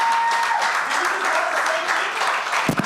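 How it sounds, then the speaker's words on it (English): Audience applauding at a live talk event, a dense, steady burst of clapping close by that carries on for a few seconds before cutting off, with a voice faintly mixed in. "Now y'all gotta clap that up."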